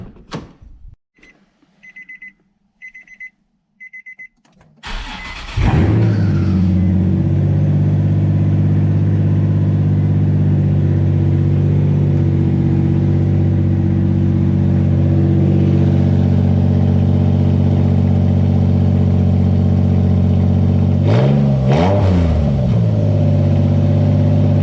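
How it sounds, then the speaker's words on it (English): A 2008 Infiniti G35S engine with no exhaust, only catalytic converters, cranks and starts loudly, settling into a raw, open-sounding idle with a brief rev near the end; faint beeping precedes the start. "if you own a 2008 Infiniti G35S and ever wondered what it would sound like without an exhaust"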